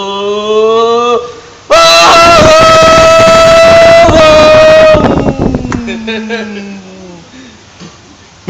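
A person mimics a car engine with their voice: a steady hum swells into a loud, roaring rev for a few seconds, then drops into a falling whine that fades out with scattered mouth noises.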